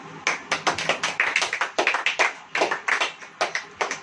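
A church congregation claps their hands during a sermon, sharp close claps in a steady, even beat that carries on throughout.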